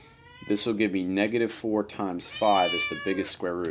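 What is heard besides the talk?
cat screaming while jumping on computer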